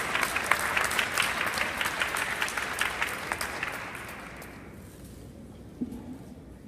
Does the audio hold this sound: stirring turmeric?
no